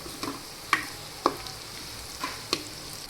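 Bitter gourd (karela) curry cooks in a pan with a soft, steady sizzle, broken by several sharp clinks of a spoon stirring against the metal.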